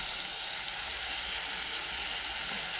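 Dal sizzles steadily in a hot pan during sautéing, a close, even hiss of frying with no pauses or talk.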